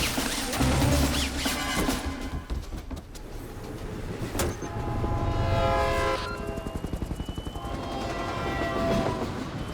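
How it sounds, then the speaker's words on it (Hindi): A train entering a tunnel in a film action scene, with rumbling wheels and clattering rail rhythm over a loud, echoing wash, a sharp high tone partway through and rapid clicking near the end. "ट्रेन टनल के अंदर एंटर हो चुकी है।"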